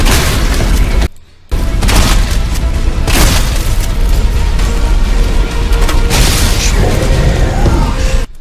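Gas tank blowing up in the Resident Evil 3 remake, a loud booming blast followed by rumbling debris and sporadic bursts, with a brief dropout early on and a dense, noisy action mix throughout.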